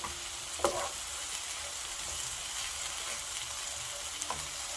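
Steady oil sizzle from garlic and ginger lightly frying in a pan, with a couple of brief stirring scrapes; no talking.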